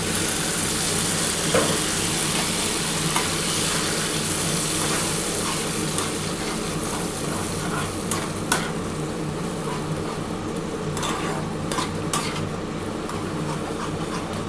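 Water poured into frying mustard masala with desi tangra fish sets off a loud, steady sizzle and bubbling, broken by a few sharp crackles and spatters and faint utensil clicks, close by, with no talking.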